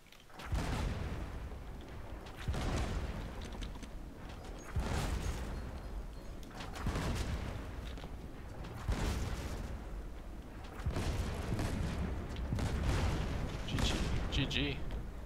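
Ship cannons in the pirate game Blazing Sails fire in repeated heavy booms roughly every two seconds, each blast rumbling loudly over a continuous background of battle noise.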